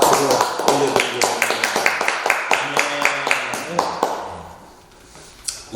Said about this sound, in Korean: 우리 박수하러 하나님께 영광을 박수로 올려드리겠습니다.